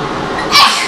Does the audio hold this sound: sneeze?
yes